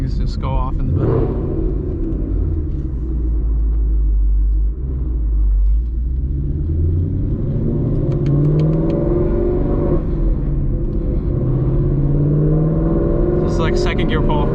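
A supercharged Ford Mustang accelerates hard on a drive, its engine a loud, deep, continuous rumble that rises and falls as it revs through the gears, with brief raspy bursts breaking through.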